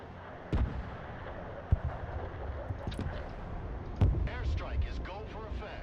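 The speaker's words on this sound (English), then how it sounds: "Airstrike is go for effect." Airstrike explosions in the video game Broken Arrow, several sharp booms spaced a few seconds apart over a steady rumble, with talk in the background.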